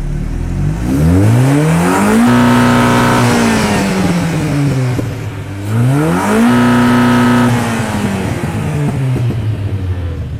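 Car exhaust revved hard twice, each rev rising in pitch to a loud sustained roar before dropping back to idle, close and loud with no talk.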